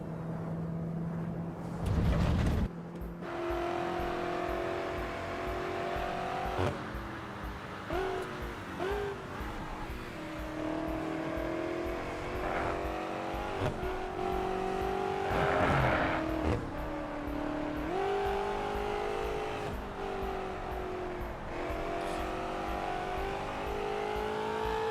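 A race car engine in the Assetto Corsa EVO racing game revs and shifts repeatedly, its tone climbing and dropping through the gears with short lifts and bursts of acceleration, steady and loud throughout.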